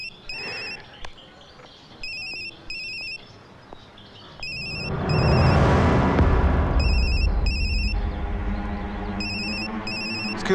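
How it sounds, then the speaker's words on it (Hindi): A telephone rings in repeated paired bursts, a bright electronic trill, while a deep rumbling swell rises underneath midway and lingers behind the later rings. "आपका फोन बज रहा है, उठाएंगे नहीं?"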